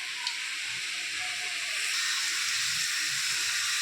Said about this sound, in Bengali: মশলাটা কষাচ্ছি, জিরের গুঁড়ো দিয়েছি, ধনের গুঁড়ো দিয়েছি, আদা বাটা, কালো জিরে আর সর্ষে।